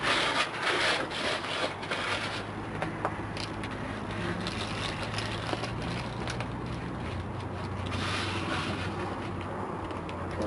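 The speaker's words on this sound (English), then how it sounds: "If you have some aggregate left behind or some scraps left behind, you can kind of rub that in, and that will help." Dry aggregate scraps being rubbed by bare hands into a fresh concrete patch on a hypertufa birdbath planter, a steady close gritty scraping and rubbing that continues throughout with a low hum underneath.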